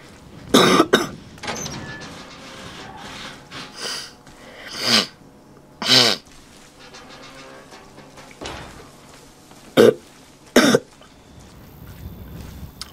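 A character coughs repeatedly in the Resident Evil 7 video game during the Marguerite boss battle, with several loud, sharp bursts spread irregularly across the clip over low background game ambience.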